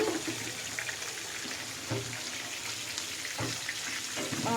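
A large whole fish, about a kilogram, fries in hot oil in a home kitchen, giving a steady broadband sizzle with a few sharper crackles and pops.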